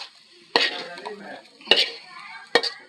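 A spoon stirs onion-flower and potato bhaji frying in a pan, three distinct scraping strokes spaced about a second apart, each followed by soft sizzling crackle, close and fairly loud.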